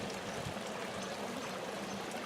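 Water from a garden fountain at the Chicago Botanic Garden splashes and rushes in an even, continuous wash, with no one speaking.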